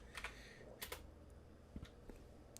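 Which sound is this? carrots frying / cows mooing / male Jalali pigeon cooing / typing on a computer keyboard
typing on a computer keyboard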